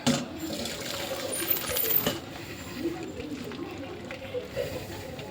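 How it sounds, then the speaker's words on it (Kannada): Water is drained off cooked lentils in a sloshing, trickling pour, with a few light metallic clinks and splashes close by. "ನೀರು ಬೇರೆ ಕಾಳು ಬೇರೆ ಸಪ್ರೇಟ್ ಮಾಡೋಣ"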